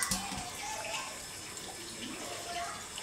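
Tap water running steadily while fruit is washed, a close continuous splashing flow with faint clatter at the start and a low murmur of background voices.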